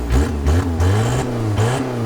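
A BMW E46 car engine revs hard at close range in about three quick rising bursts, each dipping briefly before climbing again.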